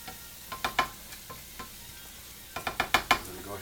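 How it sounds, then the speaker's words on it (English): Spaghetti sauce ingredients fry in a pan under a faint steady sizzle, with two clusters of clinking, scraping utensil strokes as the food is stirred. "We're getting some nice sizzle going now"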